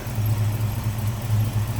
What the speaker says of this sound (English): Look at how smooth that 351 runs.